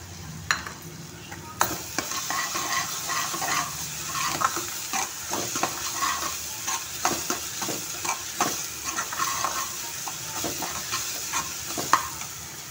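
Green chillies sizzle in hot oil in a pan for Maharashtrian pithla, a steady crackling fry with frequent sharp pops and occasional stirring clicks, close and alone.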